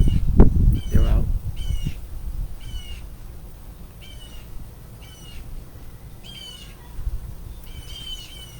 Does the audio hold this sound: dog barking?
no